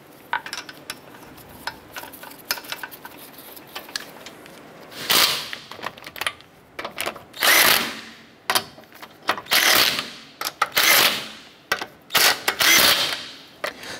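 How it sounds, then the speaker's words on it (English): Lug nuts being snugged down on a 2008-2012 Honda Accord wheel, heard as a run of sharp, close ratcheting bursts and metallic clicks. They start sparse and grow denser in the second half of the clip, with no talking. "I'm going to go ahead and get our lug nuts all started by hand, and then we'll go ahead and snug those down."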